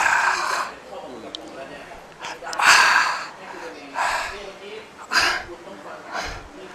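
A person drawing long, deep breaths during a treatment session, several slow audible inhales and exhales in a row, close to the microphone.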